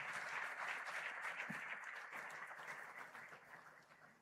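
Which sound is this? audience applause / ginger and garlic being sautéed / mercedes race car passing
audience applause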